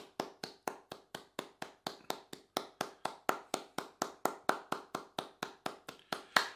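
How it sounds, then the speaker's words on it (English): A single person claps in a steady rhythm, about thirty sharp, close claps with no voices. "So if you can just have 10 seconds of clapping,"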